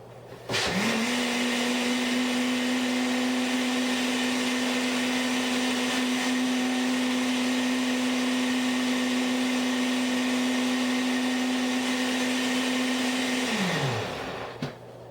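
An electric mixer blends homemade rum cream made with condensed milk, whirring at a steady, loud pitch for about thirteen seconds before spinning down, with no talking.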